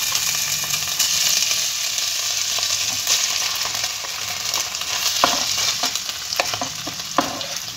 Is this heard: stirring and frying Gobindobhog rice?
yes